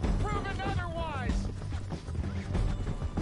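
Galloping horse hooves in Red Dead Redemption 2 give a steady clip-clop rhythm throughout, mixed with game music and ambient layers, with a voice speaking over the ride.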